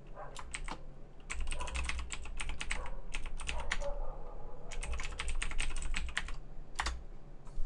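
Bursts of quick, close clicking on a computer keyboard come in several runs separated by brief pauses, with a faint hum underneath.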